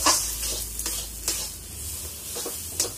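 Mashed raw taro paste fries in a pan after a little raw mustard oil goes in: a soft sizzle under several sharp scrapes and stirring strokes, close by, with no voices.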